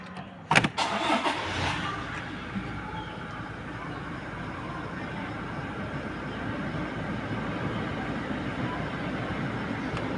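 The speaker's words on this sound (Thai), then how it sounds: "เหยียบเบรกกดปุ่มสตาร์ท" A Toyota Fortuner 2.8 starts after its start button is pressed: a brief cranking burst near the beginning, then the engine settles into a steady, fairly quiet idle that runs on to the end.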